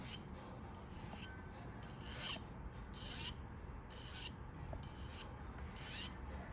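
A Vallorbe hand file worked against a metal jewelry bezel around a pear-shaped cabochon, giving faint, close, rhythmic rasping strokes about once a second over a quiet background.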